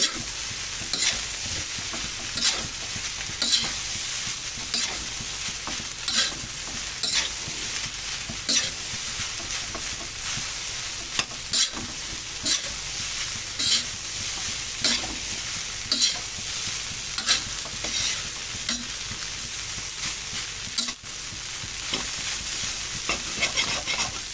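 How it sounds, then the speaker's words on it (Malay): Steady sizzling of beef fried rice in a hot pan with repeated scraping and stirring strokes of a utensil, rhythmic and close, with no talking. "Kita kacau-kacaukan dia, sebatikan dia."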